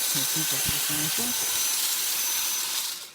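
An Elektra lever espresso machine's steam wand releases a loud, steady hiss that tapers off at the end, with someone speaking briefly at the start.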